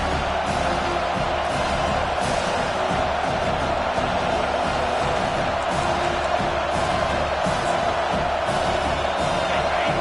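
A stadium crowd roars through a football game's third-and-goal play, a loud, sustained wall of cheering and yelling that holds steady from start to finish with no break.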